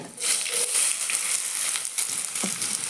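Curry leaves, chopped onion, cumin and mustard seeds fry in hot oil over a low gas flame, giving a steady, close crackling sizzle with small pops throughout.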